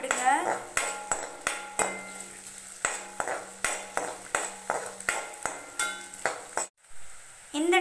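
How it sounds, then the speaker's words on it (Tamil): Sliced onion and garlic are sautéed for lemon rice, a metal spatula striking the pan in a regular rhythm of bright clinks over a light sizzle, then a short break before the stirring resumes. "வெங்காயம் ஆட் பண்ணி நல்லா வதக்கி"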